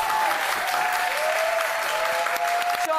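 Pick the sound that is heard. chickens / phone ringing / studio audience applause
studio audience applause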